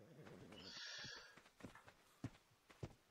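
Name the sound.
horse in the video game ARK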